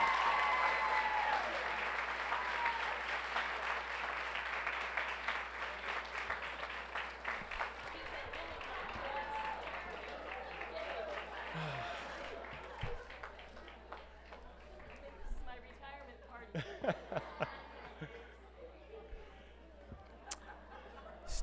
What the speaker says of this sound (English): One more round of applause for Jeannie Germain.